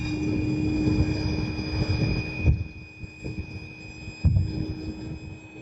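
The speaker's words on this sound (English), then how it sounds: "This is the thing that blows up James's mattress." An air pump for inflating a mattress runs with a steady droning hum and a faint whine, broken by a few soft thumps.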